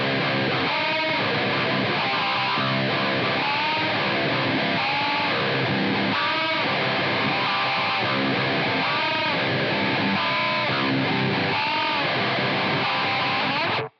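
A heavily distorted electric guitar chugs through a dissonant nu metal riff, loud and continuous with rhythmic palm-muted bursts, open strings ringing and no talking.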